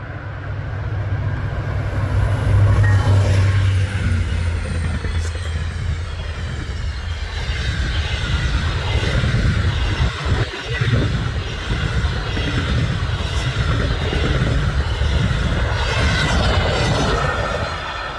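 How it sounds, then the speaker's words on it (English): The Ocean, a Halifax-bound passenger train, accelerates through Birch Ridge on a winter line in New Brunswick. It makes a loud, steady, close rumble of wheels and engine that holds for the whole stretch without a break. "The Ocean is taking full advantage of the increase as they accelerate through Birch Ridge."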